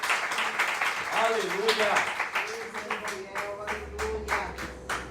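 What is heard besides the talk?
church congregation applause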